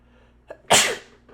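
A single loud, close sneeze: a short sharp inhale followed by an explosive burst that trails off over about half a second, set against quiet room tone.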